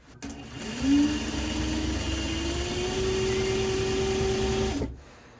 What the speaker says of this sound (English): So I'm gonna go ahead and sew that together.